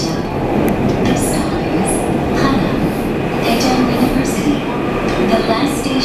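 Daejeon Metro Line 1 subway train pulling into Panam station, a loud continuous rumble of wheels on rails with faint squeals and clatter throughout, with people talking in the background.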